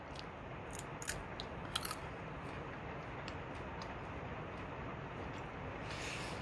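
Soft crunchy chewing with a few sharper crisp bites early on, close and quiet over a steady background hiss.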